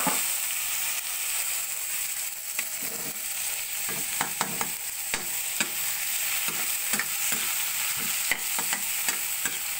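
Tomatoes sauté with a steady sizzle in a pan while a utensil scrapes and taps through it in frequent uneven strokes, fairly close; no one talks.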